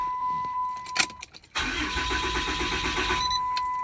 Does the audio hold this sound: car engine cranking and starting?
yes